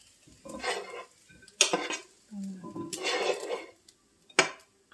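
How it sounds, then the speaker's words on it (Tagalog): Prawn and pea fried rice scooped from a pan onto a plate, heard as a few close, bright scrapes and clinks of a utensil against cookware, separated by short pauses. "Ayan, so ilagay ko na sa plato."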